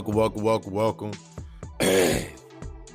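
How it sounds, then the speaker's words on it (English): Someone clears their throat several times in quick rough bursts, followed by a louder, harsher final rasp, close to the microphone. "As I clear my throat"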